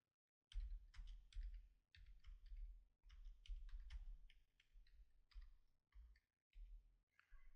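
Keystrokes on a computer keyboard in Microsoft Word 2007, coming in quick bursts of clicky taps separated by short pauses, fairly close and with no talking.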